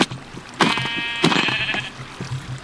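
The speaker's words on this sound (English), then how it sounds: "Hello, sheep." Sheep bleating in Minecraft, two loud wavering bleats close by with short pauses between them, set over quiet game ambience and no talk.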